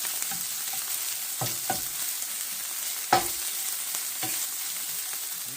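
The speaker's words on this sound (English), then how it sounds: "I like getting that fat fried up." Leftover brisket fat frying in a pan over medium heat sizzles steadily and close, with a few sharp utensil scrapes and stirring clicks cutting through the hiss and no voices.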